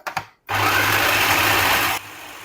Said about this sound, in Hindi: पहले हमने सिर्फ ये मसाले डाल के इसको चॉप करना है